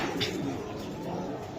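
A silver Giribaz pigeon coos softly nearby, a faint, low call over quiet room ambience.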